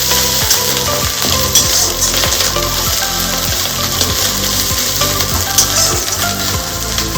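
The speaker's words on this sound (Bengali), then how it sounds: "আদা রসুনটা ভালোভাবে ভাজা হয়ে গিয়েছে।" Whole garlic and ginger spoonfuls fry in hot oil in a pan for a Bengali doi katla dish, giving a steady loud sizzle and crackle with rhythmic scraping strokes of a spatula, no talking.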